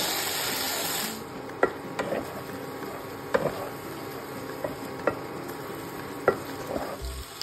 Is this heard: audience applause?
no